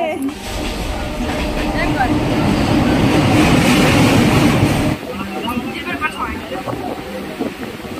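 A train arrives at Sealdah railway station with a loud, rumbling rail roar that swells and then drops off abruptly partway through, leaving quieter platform ambience and scattered clicks.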